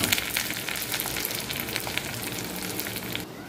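Cashews and curry leaves fry in hot ghee, a steady dense sizzle and crackle held close and loud for a few seconds, alone with no talking.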